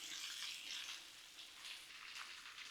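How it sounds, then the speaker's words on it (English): Cabbage sizzles and fries on a Blackstone griddle with a soft, steady hiss, quiet and continuous with gentle swells, no talking. "We're gonna let this cabbage cook on down"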